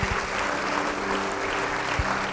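A church congregation clapping, a brief burst of dense, moderately loud applause with a low hum underneath, lasting a couple of seconds.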